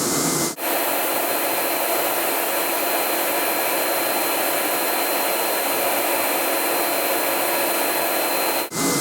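A Versa Spa spray tanning booth blows a steady, loud rush of drying air for nearly the whole stretch, beginning and ending with abrupt cutoffs.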